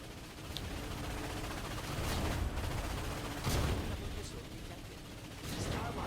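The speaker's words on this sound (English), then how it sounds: "you'll then fire the cannon, rinse, repeat till you have taken out all of the ships." Cannon fire against ships in the Ratchet and Clank remake game comes as repeated heavy booming blasts at irregular intervals over a dense, continuous layer of game noise.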